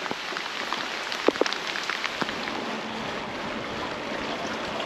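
Steady heavy downpour in Italy hisses continuously while occasional louder drops tap close by, a constant wet wash of rain on a surface.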